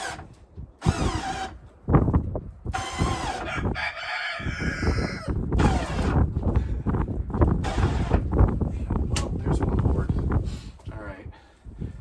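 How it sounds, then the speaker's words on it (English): A rooster crows several times nearby among meat chickens, with clucking around it, while a person talks and handles equipment amid rain and wind. "Really crowing."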